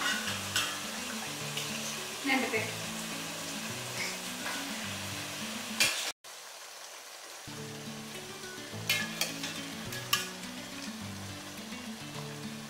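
Fried chicken pieces go into boiling biryani gravy in a pressure cooker, giving a steady close sizzle and bubbling with scraping stirs, a brief cut near the middle, and a faint musical background throughout.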